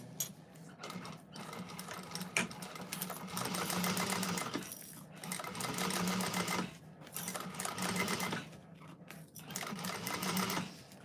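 A sewing machine stitches a bag exterior in rapid mechanical bursts, running in several stretches separated by short pauses, close and steady.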